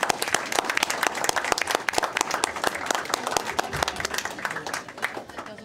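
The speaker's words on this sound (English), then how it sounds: "One more round of applause for him." Applause from a modest audience at a town board of education meeting, sparse individual claps steady throughout with some voices mixed in.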